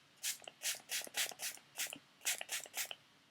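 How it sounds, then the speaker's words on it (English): An I Heart Revolution Tasty Peach mattifying priming spray is misted in about nine quick hissing pumps, close and evenly spaced, with no talking. "I'm gonna use the I Heart Revolution Tasty Peach Mattifying Priming Spray."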